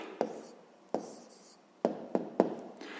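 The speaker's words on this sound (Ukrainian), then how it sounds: "Ну що ж, записуємо відповідь." Pen scratches on paper as a math answer is written down, several soft strokes with small taps, close and quiet, without talk.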